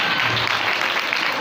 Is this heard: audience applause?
yes